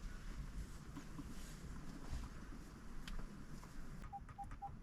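A Dasaita G13 Android Auto head unit in a Nissan Qashqai J11 places a phone call, with three short, evenly spaced dialing beeps near the end over a low, steady car-cabin hiss.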